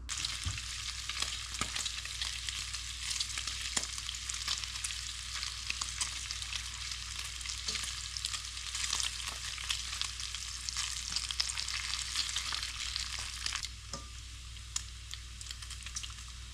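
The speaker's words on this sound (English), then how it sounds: "We're going to cook us some bacon." Bacon frying on an electric stove, a steady close hiss and crackle with scattered pops throughout that thins out near the end.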